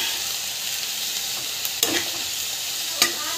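Tomato and coconut sauté with salt in a hot pan, a constant bright sizzle broken by two or three quick spatula scrapes, close and alone without any voice.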